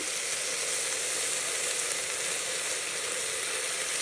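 Green chillies tossed into a hot frying pan give a loud, steady, close-up sizzle with light stirring, no voices over it.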